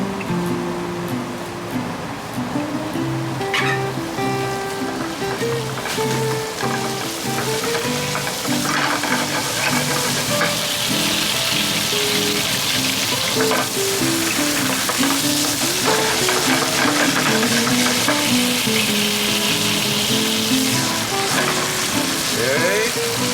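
Garlic frying hard in olive oil over a high flame, a loud continuous sizzle and crackle with clinks of a utensil stirring throughout.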